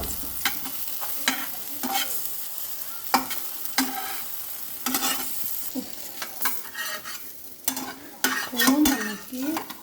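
Potato pancakes sizzle steadily in a covered pan, a continuous crackling frying noise broken by repeated sharp clinks and scrapes of a utensil against the pan, close and fairly loud with no talking.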